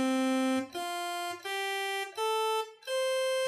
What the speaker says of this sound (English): And what does a saw wave sound like? It sounds like this.